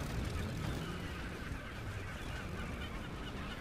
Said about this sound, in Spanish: Gaviotas.